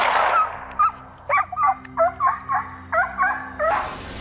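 Hunting dogs bark during a wild boar hunt in a series of about eight sharp, clear barks in quick irregular bursts, fairly close, over a quiet background.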